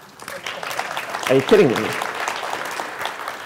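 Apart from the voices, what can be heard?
conference audience applause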